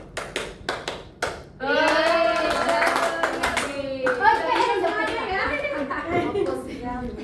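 A few sharp hand claps in a simple rhythmic pattern come first, then children's voices rise together in a loud, sustained chant in a classroom, filling the rest of the stretch.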